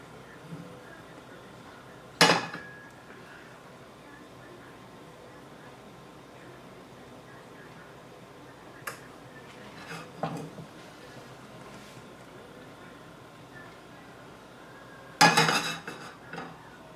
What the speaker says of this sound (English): Now, we're going to get our pan going here.